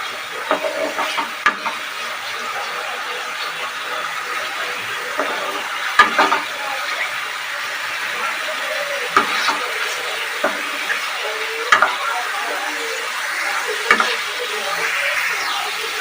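Onions fry and sizzle in a pan with ginger, garlic and green chili paste, a steady close hiss broken by occasional scrapes and knocks of a spoon stirring the mixture.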